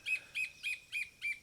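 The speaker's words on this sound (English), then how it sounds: "Wow, there's a ton of birds out here. You hear that?" Wild bird in Ecuador repeating a bright chirping call five times in even succession, each note short and clear against a quiet background, fairly near.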